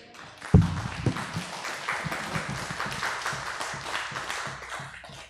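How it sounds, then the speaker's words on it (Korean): A church audience at a mission school lecture gives a round of applause, a dense, steady wash of many hands clapping that starts with a few sharp claps and holds evenly. "그만 우리 우선 박수를 한번."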